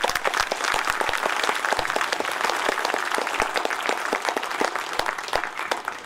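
Auditorium crowd at a school annual function applauding a young performer, a loud, dense stretch of many hands clapping continuously with sharp individual claps standing out, no talk over it.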